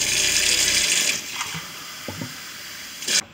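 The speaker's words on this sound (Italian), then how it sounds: "vado a riempire un bicchiere di acqua tiepida" Lukewarm water runs from a kitchen tap into a glass, a steady broadband gush at first that thins out, followed by a few small clinks and a brief final splash.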